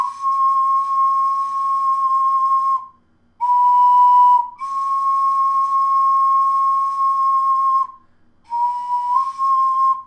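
Close ocarina notes with an airy, breathy edge, held steady in four long tones separated by short breaks, with no voices.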